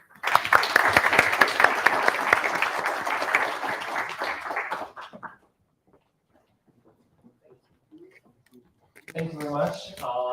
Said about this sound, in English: just a huge round of clap for Majid for organizing this event